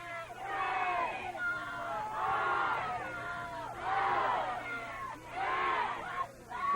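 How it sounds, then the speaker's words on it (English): Large soccer crowd at a 1986 NCAA quarterfinal between Akron and Penn State cheering and yelling in sustained waves, loud and continuous with surging swells roughly every second or two. "you listen to the enthusiasm of this crowd trying to cheer Akron on to victory"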